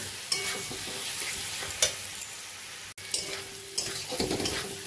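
Sliced capsicum and tomato are stir-fried in a pan for a rohu fish curry: a constant sizzle is broken by several sharp scrapes and clatters of a spatula against the metal.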